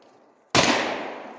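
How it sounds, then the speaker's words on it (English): A single sharp gunshot from a CZ Scorpion or Glock 19 at an outdoor 3D shooting course cracks out of near silence, loud and close, then trails off in a lingering echo. "3 shots on each target. Keep shooting."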